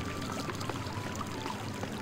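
Water flows steadily in the video game ArcheAge, a faint continuous pouring rush with no other sounds over it.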